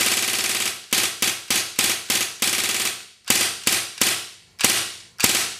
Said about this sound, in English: We're going to give it a little bit of a dry fire test.